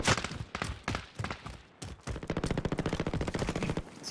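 Rapid automatic gunfire from the player's weapon in a first-person shooter, a brief opening burst, a pause, then a steady stream of close, loud shots that runs to the end with no talking.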